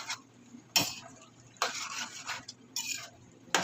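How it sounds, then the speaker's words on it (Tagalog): Potatoes and carrots tipped into a pot while cooking menudo, making several sharp clattering bursts of vegetable chunks hitting metal, separated by quieter gaps, fairly close and with no talking. "Lagyan na natin yung ating patatas. Patatas at carrots guys."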